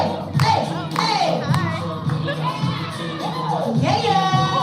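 A crowd cheering for children dancing at a live charity event, with whoops, shouts and scattered clapping rising and falling, and excited voices calling out throughout.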